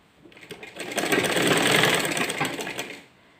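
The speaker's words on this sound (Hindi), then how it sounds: "इस साइड की सिलाई करेंगे" Sewing machine running steadily for about three seconds while stitching the side seam of a salwar, loud and close, ramping up quickly and cutting off near the end, with no talking.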